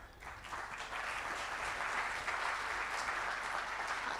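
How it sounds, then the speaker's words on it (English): Sustained applause from an audience at a FOSS4G Prizren 2023 conference as a keynote speaker takes the floor, a dense steady wash of many hands clapping at moderate distance. "I like to get all the clapping out of the way at first"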